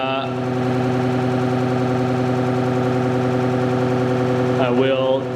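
A ReGen-X stepper traction motor runs in motor mode on battery power, giving a steady, evenly pulsing electric hum with layered tones throughout, and a short rising and falling whine near the end, while a voice talks over it.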